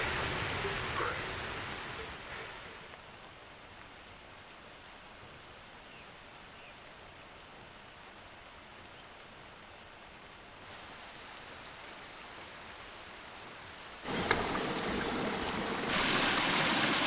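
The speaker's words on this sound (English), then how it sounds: "It's raining like crazy right now" Steady, dense rainfall hissing over everything in a mountain valley, loud and close, with a constant wash of water and a brief louder rush near the end.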